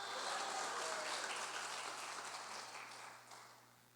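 Congregation clapping during a Portuguese-language church sermon, a steady wash of applause that holds for about three seconds and then tapers off gradually, heard from a distance beneath a low electrical hum.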